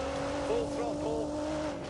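A race car in The Grand Tour video game at full throttle, a steady high engine tone with rising and falling pitch sweeps as revs shift, fairly close and continuous, with tire noise underneath.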